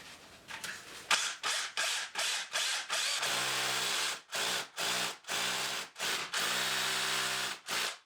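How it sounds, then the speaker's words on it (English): A power drill bores holes into a wall to mount a burglar alarm panel, running in repeated loud, close bursts separated by short pauses, with no voices. "We can now drill those two holes."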